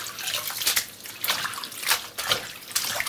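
Callaloo leaves are rinsed in water, giving a steady, close splashing and sloshing with rippling surges and no talk.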